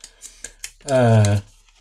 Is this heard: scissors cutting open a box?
yes